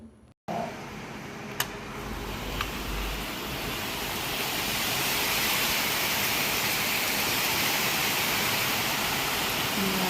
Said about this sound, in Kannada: ಅಷ್ಟು ಮಳೆ ಬರ್ತಿದೆ ಅಂದರೆ